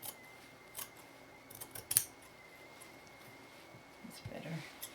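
Scissors snipping through green velvet fabric while trimming a sewn piece, a few soft, close cuts spread across a quiet indoor room with faint background hum.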